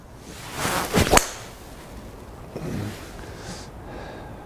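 A golf ball struck by a Callaway Epic Flash 3 wood gives a single muted, dull whack with a swishing rush of air around it, followed by fainter outdoor rustle.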